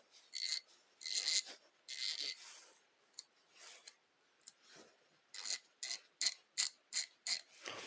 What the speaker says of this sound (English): that is a FL80 classic Snap-on ratchet